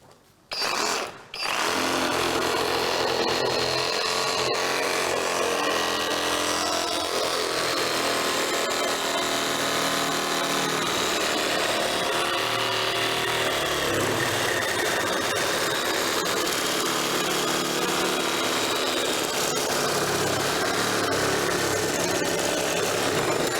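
A Festool RSC 18 cordless sabre saw runs steadily for over twenty seconds with its dust extraction vacuum switched on. A short start-up burst comes first, then a dense, loud, continuous whine and rumble with no talking.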